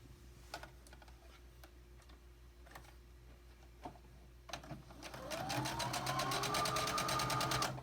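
A sewing machine stitches a quilt block seam, first in a few soft scattered ticks, then settling into a steady, fast, continuous whir of needle strokes, close and clear with no talking.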